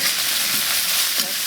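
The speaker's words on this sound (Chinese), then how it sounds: "来炒一下，炒出辣味来。" Chili peppers and doubanjiang bean paste, with scallion and ginger, stir-fry in a hot wok for a braised beef hoof dish. A loud, continuous sizzle runs throughout, with a couple of stirring scrapes.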